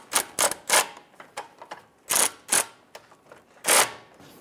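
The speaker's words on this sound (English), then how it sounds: "Snug down the bottom right bolt." Wrench work tightening bolts on a Buick Enclave 3.6L V6 transmission mount: a series of short, sharp metallic clicks and ratcheting bursts at irregular intervals, close and fairly crisp against quiet background.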